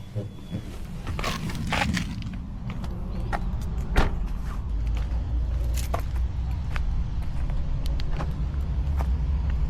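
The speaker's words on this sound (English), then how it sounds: "I'll now switch off the car, step outside, lock the car" A BYD Seal electric car is switched off, then a door thuds shut and the car locks, with a few sharp clicks and thumps over a low steady rumble, close by.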